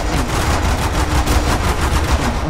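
Rapid automatic gunfire from a Roblox zombie game, a dense, continuous burst of close, loud shots rattling without pause for the whole stretch.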